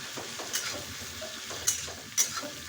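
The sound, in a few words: five-spice seeds sizzling in fish curry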